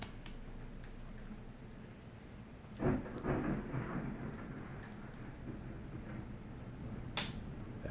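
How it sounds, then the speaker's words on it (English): Thunder during a storm with strong winds rolls in as a sudden crack followed by a rumble lasting a few seconds, with steady rain-like noise underneath and a brief sharp crackle near the end. "That was lightning."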